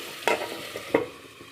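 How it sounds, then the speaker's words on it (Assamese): Pork fries in a pan with a faint sizzle, broken by two quick scraping stirs about half a second apart. "মাংসখিনি অলপ ভাজি লোৱাৰ পিছত মাংসৰ পৰাই লাহে লাহে তেল ওলাই আছে"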